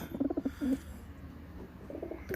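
Pigeons coo in a short series of soft, throaty pulses, then pause before a faint second burst, with quiet background hum.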